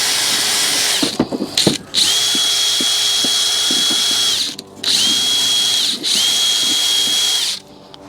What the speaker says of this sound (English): Just got this little drill brush.